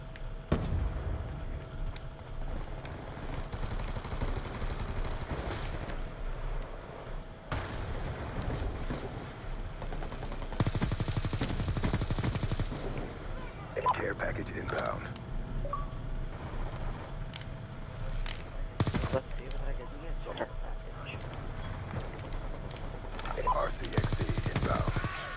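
Bursts of automatic gunfire and rifle shots in a Call of Duty multiplayer match, loud and close, with sustained volleys broken by brief pauses and occasional explosive booms, while a player talks intermittently.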